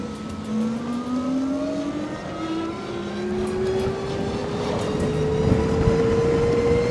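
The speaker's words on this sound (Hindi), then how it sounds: "जैसे मैं यहाँ पे इसके रेस ज़्यादा दे देता हूँ एकदम से और फिर ब्रेक लगाता हूँ, पैनिक ब्रेकिंग करता हूँ" An Oben Rorr electric motorbike accelerates hard, its motor whine climbing steadily in pitch over wind and road noise, then cuts to a sudden stop under panic braking.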